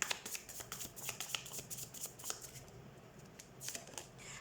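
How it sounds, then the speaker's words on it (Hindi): Tarot cards are shuffled and drawn by hand, a quiet, close series of rapid papery riffles and soft flicks with no speech. "लेट्स सी एक्स्ट्रा कार्ड्स हम देख लेते हैं कुछ।"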